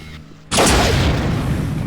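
A weapon barrage erupts in Unreal: Return to Na Pali, a sudden loud burst of overlapping booming blasts that starts abruptly after a near-quiet moment and rolls on densely, close and dominant, with no talk over it.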